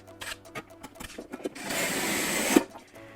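A drywall screw is driven by a power driver through a drilled wooden seat panel into a wooden buck, giving a steady whirring drone after a few light knocks, close and moderately loud.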